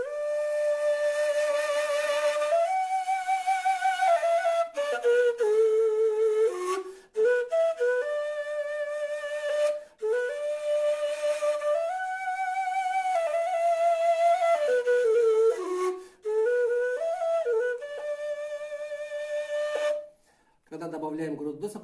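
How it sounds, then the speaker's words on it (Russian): A kurai, the Bashkir reed flute, plays a plain whistling, flute-like melody of sustained notes with short breaths between phrases, close and clear, with a brief voice at the very end. "когда мы начинаем учить детей, тогда просто звук свиста, как флейтовый звук получается"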